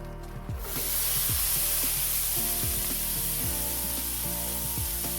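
Frozen onions hit hot olive oil in a skillet and erupt into a loud, steady sizzle that begins abruptly and hisses continuously, with no one speaking.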